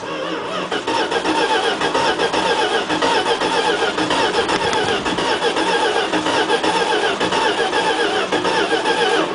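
A small engine sputters and catches, then runs steadily at a loud, busy idle without pause for several seconds.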